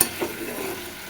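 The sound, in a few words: spice paste being sautéed and stirred in a pan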